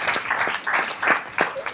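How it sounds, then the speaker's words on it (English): A room full of people at a school district board meeting applauds, giving a short burst of uneven, fairly close hand clapping that rises and falls in small surges for a couple of seconds. "you deserve a round of applause"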